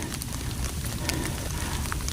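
Rain falling steadily on a mountain trail on Gunung Sindoro, a dense, even patter with scattered louder drops, no voices.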